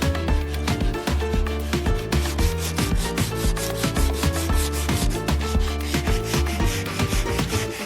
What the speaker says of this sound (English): Perfect time for sanding.